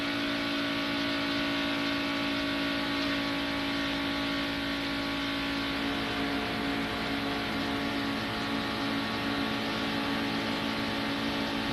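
NASCAR stock car engines roar continuously at the 1992 Pepsi 400, a loud, steady high-revving drone with no talk over it.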